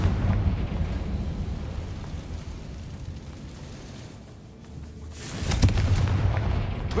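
A Confringo blasting spell goes off in Hogwarts Legacy: a low rumble fades over several seconds, then a sharp, loud explosive crack bursts out and rolls on as heavy, booming reverberation.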